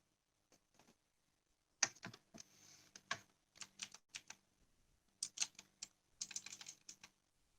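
Someone types on a computer keyboard while working in Canva, the keys clicking close and quiet in short uneven bursts separated by pauses, with no speech.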